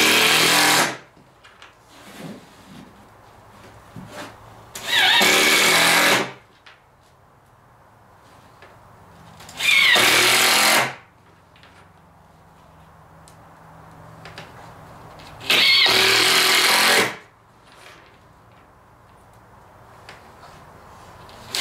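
A power tool drives in four loud bursts, each lasting about a second and a half, with quiet workshop pauses between them, while a door is being built.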